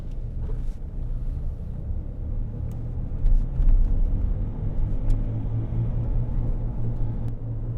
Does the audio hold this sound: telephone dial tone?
no